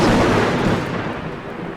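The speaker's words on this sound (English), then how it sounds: "Now we have a classic dark and stormy night situation." Thunder in a storm in the video game Darkwood, a single loud low rumbling crack that rolls off and fades across under two seconds.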